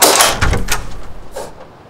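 Knocking on a door: a few quick, sharp raps close together, then a single softer knock after a short pause.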